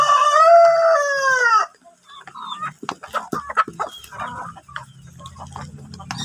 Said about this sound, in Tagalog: Gutom na ang ating mga manok, guys